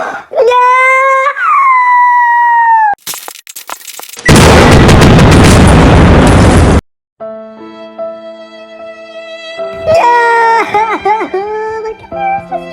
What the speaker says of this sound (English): Stop shooting her computer!